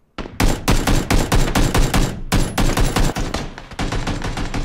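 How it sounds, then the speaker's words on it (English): Rapid automatic gunfire in PUBG aimed at a building, loud and close, fired in long rattling bursts with a few short gaps between strings of shots and no talk. "they're shooting the fucking building"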